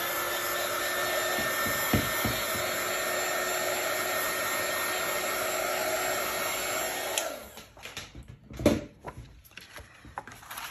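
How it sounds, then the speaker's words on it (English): A craft heat tool blows steadily to dry a handmade card, a constant loud whirring hiss that cuts off after about seven seconds, followed by a few light handling knocks. "I'm just going to run my heat tool just over that, make sure it's completely dry"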